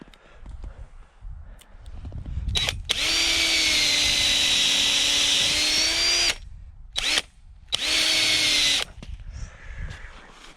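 A power drill whines loudly in several long bursts, pausing briefly between runs, boring into a maple tree trunk for sap tapping amid quiet outdoor background sounds.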